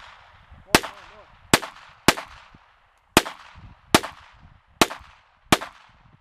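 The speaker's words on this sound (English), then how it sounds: "10 shots. Fire, fire, fire." Seven sharp, evenly spaced gunshots from a handgun during shooting practice, each loud crack ringing out briefly, with quiet background murmur between shots.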